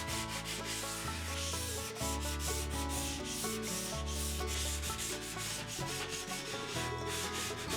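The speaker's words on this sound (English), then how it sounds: "Next, I sand them lightly to even out the tops" Wooden model railroad ties are lightly sanded by hand, a faint rubbing scrape heard beneath continuous background music with no talking.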